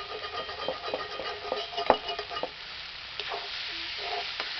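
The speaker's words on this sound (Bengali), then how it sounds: "কলমি শাক ভাজা, এবার নামিয়ে নেব" Water spinach (kolmi shak) with shrimp fries in a pan, a soft steady sizzle broken by scraping stirs of a spatula, with one sharper clack of utensil against the pan near the middle.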